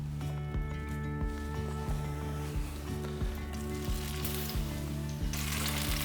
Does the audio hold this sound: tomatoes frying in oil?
yes